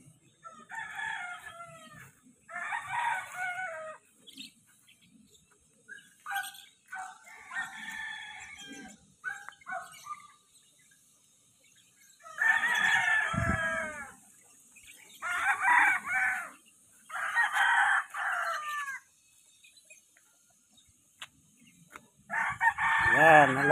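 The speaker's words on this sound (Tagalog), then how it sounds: "Yan, alagang manok, marami. Pangsabong." Many fighting roosters raised for cockfighting in Barangay Calubcob, Silang, Cavite crow and cluck in repeated loud bursts, several birds calling one after another at close to middling range, with short quieter gaps between calls.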